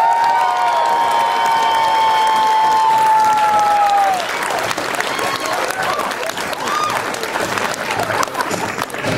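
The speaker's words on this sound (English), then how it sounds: "Please give a round of applause to Ian Wisher!" Loud, sustained applause from a crowd fills the space, dense clapping continuing steadily after a tonal ring fades out partway through.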